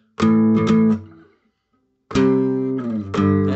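Two bursts of distorted electric guitar power chords, each a few quick strums ringing out, separated by a second of near silence.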